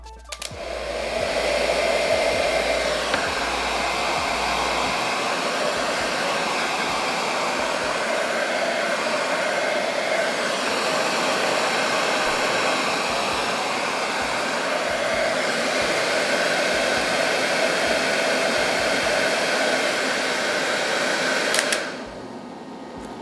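A hair dryer runs from an EcoFlow portable power bank in X-Boost mode, giving a loud, steady whirring rush of air for about twenty seconds before cutting off abruptly near the end.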